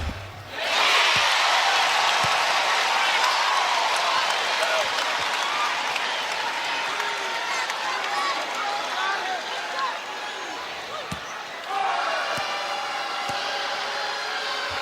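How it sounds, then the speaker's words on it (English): A basketball arena crowd at an NCAA women's Sweet 16 game between South Carolina and Maryland cheers and applauds loudly, a dense sustained roar that dips briefly and surges again near the end. "Chloe Kitts' dad cheering her on"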